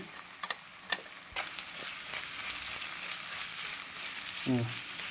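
Ingredients for a Kottayam-style prawn curry sizzle steadily in a pan with salt, and a spoon scrapes and stirs through them in a few distinct strokes, with a short clatter near the end.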